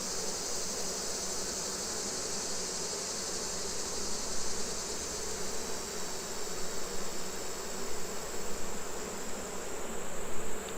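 Dense, steady buzzing of many bees around a hive close by, a constant droning hum with slight swells in loudness and no voices.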